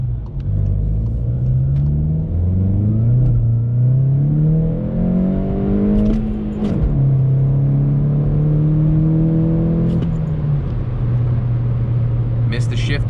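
A manual six-speed Golf GTI with a track exhaust revs hard, its deep droning engine note climbing and dropping through several gear changes, loud and close, with brief clicks near the shifts.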